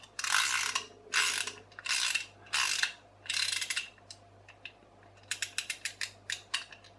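A plastic wind-up crocodile bath toy is wound by hand, giving five bursts of crisp, close ratcheting clicks, followed by a quicker series of short clockwork clicks.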